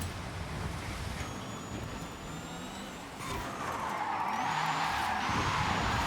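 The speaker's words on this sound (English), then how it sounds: "Let's see if we can drift it." Tires squeal in long rising and falling whines over a steady engine roar as a car drifts in Forza Horizon 5, loud and continuous with no talk.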